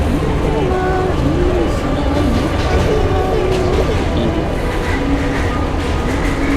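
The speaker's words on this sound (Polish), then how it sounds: "A, metro. Tunel metra." Subway train rumbling through a metro tunnel in the game Metro Last Light, a steady dense roar with rail noise throughout, with people talking over it.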